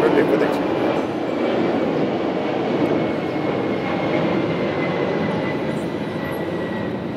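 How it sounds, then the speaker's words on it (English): An aircraft passing overhead during an outdoor public event in India: a steady, broad roaring rumble that fills the whole stretch at fairly constant loudness, with no other distinct sounds standing out. "just wait for the aircraft"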